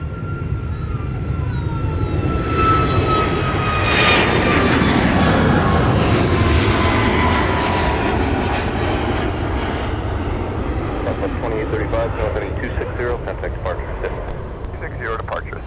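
A Southwest jet departs MSP airport on a winter day, its engine roar building to a loud peak with a rising whine, then fading as it climbs away; people talk faintly beneath it.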